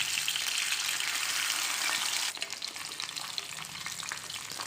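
Pieces of fish fry in hot oil for an Assamese fish fry, a dense, loud hiss for the first couple of seconds that then settles into a softer, crackling sizzle, with no talking.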